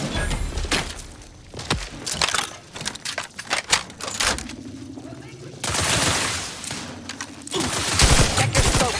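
Gunfire in The Outer Worlds 2 crackles in rapid volleys of sharp shots, bursts of automatic fire and scattered single cracks, loud and close, with brief spoken lines between bursts.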